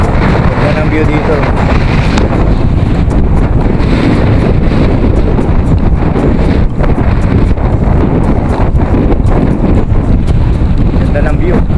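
Strong wind roars steadily into the microphone throughout a motorcycle ride on a road toward Atimonan, a loud, continuous rushing that buries nearly everything else.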